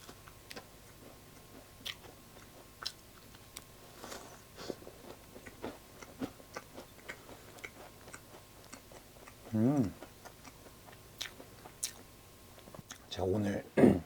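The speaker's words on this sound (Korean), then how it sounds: "자, 오렌지 한번 먹어보겠습니다" Someone eats an orange fruit tart with soft, close bites and crunches in an irregular ticking rhythm, while a voice speaks in a couple of short stretches.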